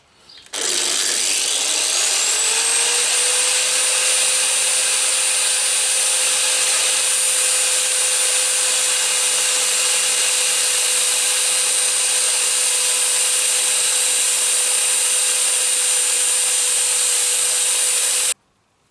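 A grinding disc spinning on a lathe against high-speed steel gives a loud, steady high-pitched whine that starts up, holds unchanged for many seconds and stops abruptly, with nearby rubbing and hum.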